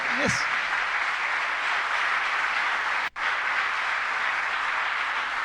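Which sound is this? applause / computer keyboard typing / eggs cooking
applause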